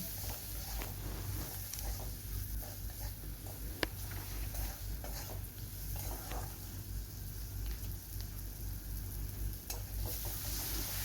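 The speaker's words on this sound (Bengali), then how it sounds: "দেখো এটা আমি হালকা জল দিয়ে দিয়ে এটাকে কষে নিচ্ছি" Onions with cumin and coriander powder sautéing in a pan with a splash of water, a low, steady sizzle under faint background hum, with scattered spoon scrapes and one or two light clicks.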